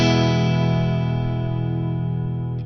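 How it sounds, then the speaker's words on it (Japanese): A sustained guitar chord rings out through a reverb pedal, thick and even, slowly decaying with a long wash of tail and no talking. "リバーブいきましょうか。"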